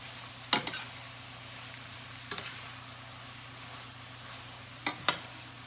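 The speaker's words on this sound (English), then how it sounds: "we're just going to let them keep sauteing down for a little bit" Catfish sautéing in a pan: a soft, even sizzle runs throughout, with a few sharp utensil taps and scrapes in small clusters near the start, middle and end.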